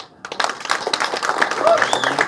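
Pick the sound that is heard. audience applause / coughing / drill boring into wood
audience applause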